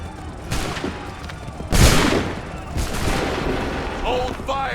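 A musket volley fires in Assassin's Creed III, one heavy crackling burst of many shots at once amid scattered battle noise, with a few other reports before and after and faint voices under it.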